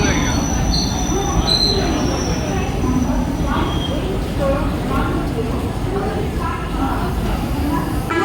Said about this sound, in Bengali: পুরী থেকে 62 কিলোমিটার পথ অতিক্রম করে ভুবনেশ্বর প্ল্যাটফর্মে আমাদের ট্রেন ঢুকেছে